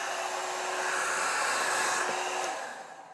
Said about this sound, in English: And here's the two.